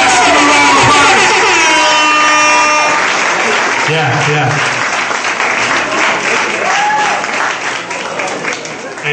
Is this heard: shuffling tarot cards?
no